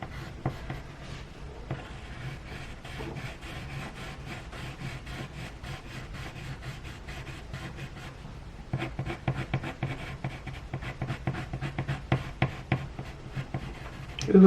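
Coloured pencil shading on paper, with light up-and-down strokes that make a continuous dry scratching, close and steady, which becomes brisker and more clearly rhythmic toward the end.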